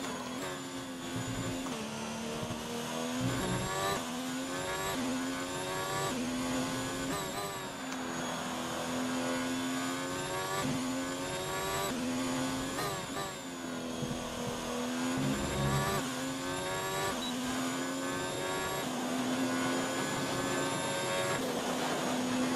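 An F1 car lapping Monza in F1 2019, a loud, continuous high-revving engine whine climbing in pitch through each gear and dropping sharply at shifts and braking, heard alone without talk.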